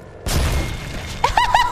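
Grenade explosion in a video game, a single sudden close blast with a short rumbling tail, quickly followed by bright repeating electronic game tones.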